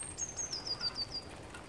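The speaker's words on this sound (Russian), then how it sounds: "Птички слышны." Small birds chirping faintly in the distance near a quiet forest road, a thin descending series of high tweets over low background rumble.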